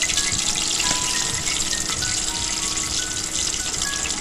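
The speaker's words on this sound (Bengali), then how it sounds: "এবং এটা লাল হওয়া পর্যন্ত আমি এটাকে ভেজে নেব" Seasoned dried peas sizzle and fry in hot oil in a kadai, a steady dense hiss that stays even and close throughout, with no talking.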